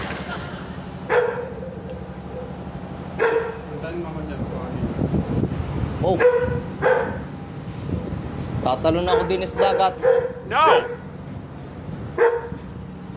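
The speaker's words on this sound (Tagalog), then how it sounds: "Marami yung aso." Several dogs bark repeatedly in short bursts at close range, mixed with yips, while people talk and exclaim over them against a steady background hum.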